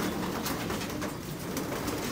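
Young racing pigeons at a loft aviary coo softly and continuously, a low murmuring flock sound with steady rustling in the background and no voices.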